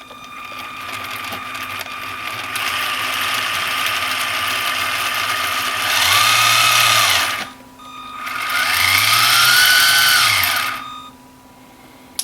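Electric drive motor and propeller shaft of a 31-inch RC model of the Disney Nautilus submarine, a steady mechanical whine that swells up to speed in two throttle bursts, then winds down, close-up with no talk.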